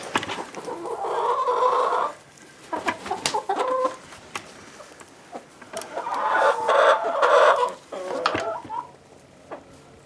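Hens cluck and squawk close by in two loud bursts separated by quieter pecking and shuffling, with a few short calls in between, on a homestead on a warm winter day.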